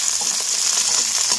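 Okra sizzling steadily in hot frying oil that was previously used for frying chicken, a close, continuous crackle with no talk over it.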